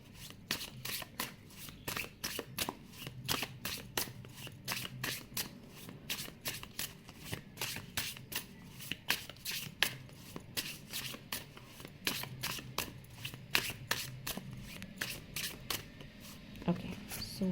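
Tarot cards shuffled over and over to make piles, a close run of crisp riffling flicks with someone talking softly under it.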